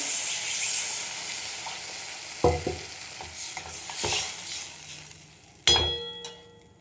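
Soya chunks that were sautéed with capsicum sizzle in a pan as water is poured in, giving a burst of hissing steam and a few sharp clinks of utensils against the pan.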